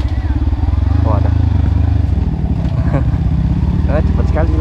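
A motorcycle on an off-road trail ride near Cikalong Wetan, Bandung, with a steady loud engine and exhaust drone throughout and a rider talking over it.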